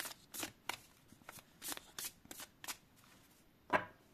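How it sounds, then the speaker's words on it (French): Oracle cards are shuffled and drawn by hand, giving a quick run of crisp, close riffling slaps and flicks with brief pauses and a sharper snap near the end. "je vais vous tirer une carte pour donner le ton pour ce mois-ci"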